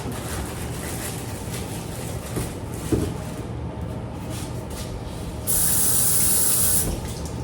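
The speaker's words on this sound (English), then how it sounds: "So you're going to grab your potatoes. Make sure you rinse them out." Potatoes are rinsed under running tap water in a kitchen for a pot roast. A steady spray of water runs throughout with occasional handling bumps, and the flow gets louder and harsher near the end.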